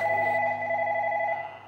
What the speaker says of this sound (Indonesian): Ah, kayak ada suara telepon.